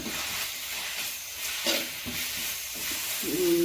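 Chopped ginger and garlic frying in hot oil for a homestyle chicken curry, giving a steady close sizzle and hiss with a few stirring scrapes, and a high whistle near the end.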